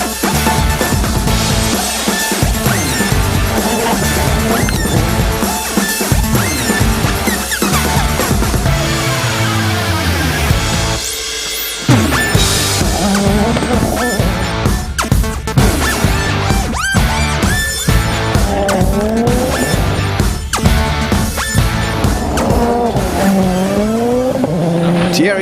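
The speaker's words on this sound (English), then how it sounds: "famous for another spectacular jump, with the cars leaping around 30 metres through the air" Rally cars at Rally Italia Sardegna, 2013 WRC, roar past and launch over a big jump, engines screaming loud and continuous with revving, tire squeal and gear changes throughout, briefly dropping near the middle before surging back.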